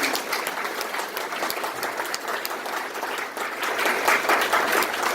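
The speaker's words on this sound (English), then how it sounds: "Please let there be a deafening round of applause as we invite him." Sustained applause from a large audience at a corporate event welcoming a guest, dense clapping at steady strength that swells slightly louder toward the end.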